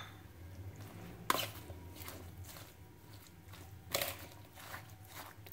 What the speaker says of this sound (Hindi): अब सैलेड को हम मिक्स करेंगे।